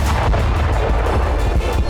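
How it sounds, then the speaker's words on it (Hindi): A blast at a Russian weapons depot on the outskirts of Belgorod, heard as loud, dense booming and crackling bursts of detonation that roll on continuously, with sharp repeated cracks over a heavy rumble. "जबरदस्त धमाके के साथ हथियार गोदाम आग की लपटों में समा गया"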